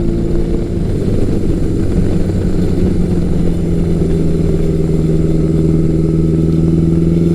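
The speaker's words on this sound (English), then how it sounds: "just has an aggressive growl to it when you get on the throttle" A Yamaha XJ1100 Maxim motorcycle engine running with a steady, loud, close growl that holds a constant low hum and barely changes in pitch throughout, and no voices.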